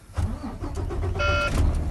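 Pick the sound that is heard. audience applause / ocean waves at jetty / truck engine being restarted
truck engine being restarted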